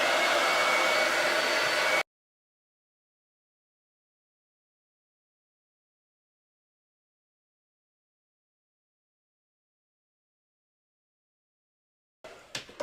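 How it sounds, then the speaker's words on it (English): A hair dryer blows over a freshly treated wood surface during home decor surface prep, a steady whirring blast for about two seconds, then abrupt silence, with a brief return of noise at the very end. "So I'm going to dry this again."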